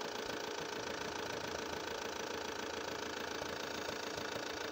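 A car engine runs steadily at a fast idle during a battery, starter and alternator test, a constant close mechanical drone with a slight knocking rattle and no voices.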